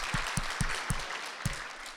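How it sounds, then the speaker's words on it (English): Scattered hand claps at a stand-up comedy show, a few separate sharp claps in an uneven rhythm against a quiet room, sparse rather than a full ovation. "Clap your hands, people who wear glasses."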